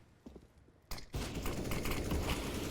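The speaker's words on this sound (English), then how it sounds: "Shot fire through the wall." Competitive CS:GO match on Vertigo: a burst of rapid gunfire punches through a wall, starting abruptly after a quiet moment and continuing as a dense, loud crackle of shots.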